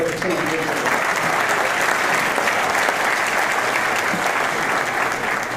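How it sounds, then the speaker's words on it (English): An audience applauds at a State of the County address, a dense, loud, continuous wash of clapping from a large crowd that lasts several seconds without letting up. "We get a round of applause for us."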